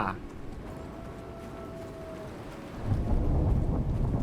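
Rain hissing over a low thunder rumble in the survival game Icarus, with a faint tone gliding above for a few seconds before the storm swells louder and heavier near the end.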